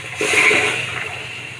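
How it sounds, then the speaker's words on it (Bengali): Potatoes and vegetable stems tipped into a hot pan, giving a sudden loud sizzle and hiss that slowly fades. "এখন আমি ডাটা এবং আলু দিয়ে দিচ্ছি"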